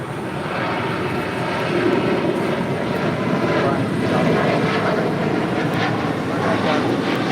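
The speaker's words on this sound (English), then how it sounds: "This is Southwest Flight 939 taking off to Houston Hobby on a 737-700." A Southwest Boeing 737-700 jet takes off at LAX bound for Houston Hobby, its engines a loud, sustained roar with gentle swells in intensity across the whole stretch, heard close and without talk.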